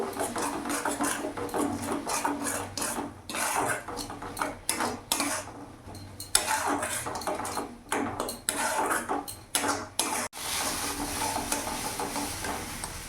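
Turmeric and Kashmiri chili powder are stirred in a pan with salt, giving repeated close scraping and clinking of a spoon against metal over a low background sizzle, in irregular bursts with brief pauses.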